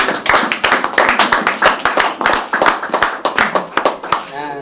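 Wedding guests clap in a steady, loud rhythmic beat, many hands striking together in close succession at an indoor celebration, with some voices mixed in beneath the clapping.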